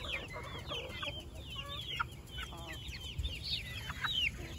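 A broody hen clucks in repeated short bursts, close and fairly loud, with other fowl calling around her in a busy outdoor farmyard.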